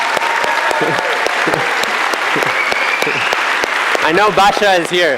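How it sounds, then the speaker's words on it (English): Audience applause at a gathering honoring a community from Poland, loud, close, continuous clapping throughout while someone talks over it. "Could we have one more round of applause for the community of Śledziowice in Poland?"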